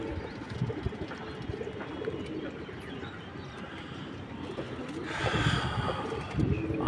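Pigeons coo softly in a home pigeon loft, with low murmuring calls and occasional flutters, fairly faint and close, with a brief livelier burst near the end.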